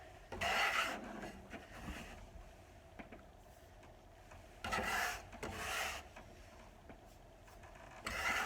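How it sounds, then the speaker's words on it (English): A scraper drags across a floury work surface in several rough rasping strokes, close and fairly quiet, with short pauses between the passes. "I'm just going to try and scrape some of this flour off here and make a clean work surface for myself"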